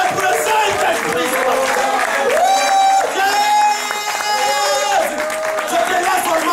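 A church congregation cheers and acclaims loudly, with sung and shouted voices, whoops and scattered clapping mixed together under a pastor's service of worship.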